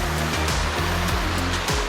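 A small U-shaped creek in the mountains flows loud and close, giving a steady broadband rush of water with no voices.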